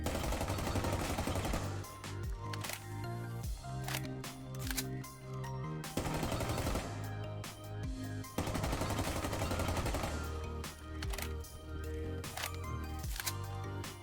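Rapid automatic gunfire in a shooter video game with no recoil compensation, loud continuous bursts of shots broken by brief pauses, close and dense, with no talking.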